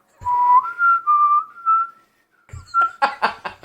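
A person whistles a short wavering melodic phrase of several clear notes, pauses, then whistles again before breaking into a chuckle, all close and dry.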